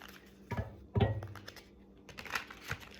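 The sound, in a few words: tarot cards being shuffled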